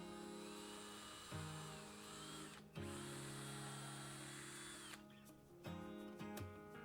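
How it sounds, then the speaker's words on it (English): A power drill bores a pilot hole with a 1/8 inch bit into a bed frame piece, a steady high whine that dips and restarts in three bursts, close and alone. "I started with an 1/8 inch pilot bit."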